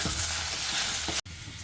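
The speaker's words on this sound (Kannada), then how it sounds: "ಇನ್ನೊಂದು ಸ್ವಲ್ಪ ಹೊತ್ತು ಇದನ್ನ ಫ್ರೈ ಮಾಡ್ತೇನೆ" Sliced okra fries in a pan with a dense, even hiss that carries on nearly unbroken, cut by one brief gap before resuming.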